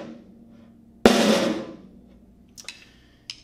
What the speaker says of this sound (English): the initial sound of the roll will be loud, and then the roll will immediately become soft